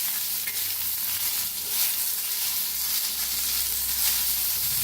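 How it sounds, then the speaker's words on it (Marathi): Continuous loud sizzling of green chillies frying in hot oil with garlic and asafoetida, with steady stirring throughout and no talking. "आता हलवून भाजून घेऊया।"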